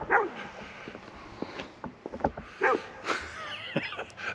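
A dog barks and yips intermittently outdoors near a motor home, several scattered barks at moderate distance with faint background noise between them.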